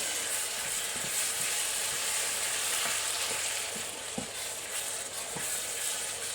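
Meat pie filling for Natchitoches meat pies cooking down in a pan, a steady close sizzle and frying hiss with soft, occasional clicks and stirring scrapes, no talking.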